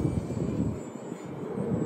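A light Wltoys XK A280 brushless RC P51 Mustang model plane flies at full power outdoors with a steady, buzzing electric motor whine that holds fairly close throughout.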